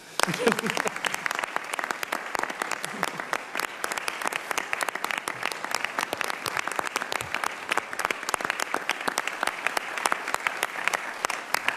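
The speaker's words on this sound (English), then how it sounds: "I'd like to see a round of applause for the spouses of the whistleblowers." Sustained applause from an audience at a National Whistleblower Day event, a thick, continuous patter of many hands clapping for over ten seconds, steady in level, with faint voices briefly mixed in near the start.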